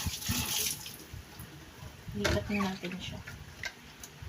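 Fresh anchovies are rinsed in water, with splashing and sloshing sounds coming in short bursts up close, fairly faint, with occasional taps against a container.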